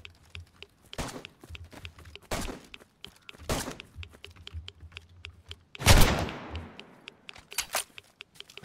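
Gunfire in a video game rings out in loud bursts, with several sharp single shots and one heavy blast around the middle, over steady clicking from keys or mouse and quiet background noise.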